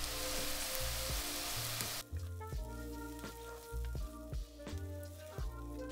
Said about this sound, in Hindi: प्याज को हम थोड़ा ब्राउन होने तक पकाएंगे.